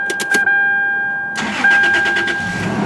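A Toyota 4Runner V6 being started: dash chimes, a short pause, then the starter cranks and the engine catches into a steady idle, close and fairly loud.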